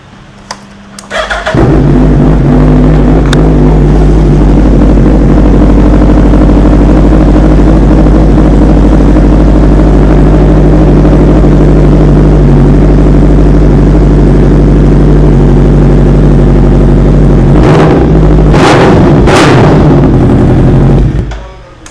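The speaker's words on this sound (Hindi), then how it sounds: "तो गाइस स्टार्ट करते हैं हम हायाबुसा 2021" A 2021 Suzuki Hayabusa motorcycle engine kicks on and holds a loud, deep, throbbing exhaust rumble, then gives a couple of sharp throttle blips before cutting off.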